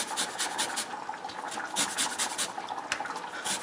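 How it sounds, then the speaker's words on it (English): A lime is zested on a microplane grater in a kitchen, giving a steady run of close, dry rasping strokes with no talk. "You're going to zest your lime."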